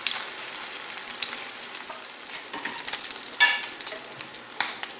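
Chicken sizzling in a frying pan, a continuous crackle with scattered sharper pops, moderately loud and close.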